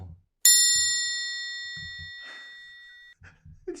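A bright bell ding used as a sound effect strikes once and rings out with a long, slowly fading tone, clear and close, with a few soft voice fragments around it.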